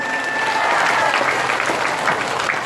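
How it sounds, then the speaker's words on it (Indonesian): Applause from an audience at an Indonesian political rally speech, a steady, loud wash of many hands clapping with faint crowd murmur underneath, continuous throughout. "Tepuk tangan untuk CE."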